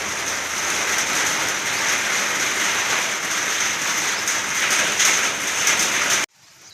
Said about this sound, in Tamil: லேசாக தூத்தல் மழை அப்படி லைட்டாக தூரிக்கிட்டு தான் இருக்குது